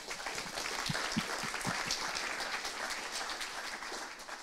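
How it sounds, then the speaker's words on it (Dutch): Audience at an investigative journalism symposium applauds steadily for a newspaper journalist, a dense, even wash of clapping that holds at moderate loudness throughout with no voices over it. "Mag ik een applaus voor Joep Domen van de NRC?"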